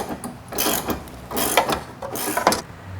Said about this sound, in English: go ahead and tighten up the bolts for the Johnny joints